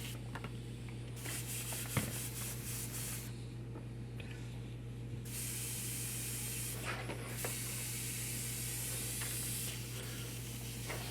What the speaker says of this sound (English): Clean out my airbrush real quick.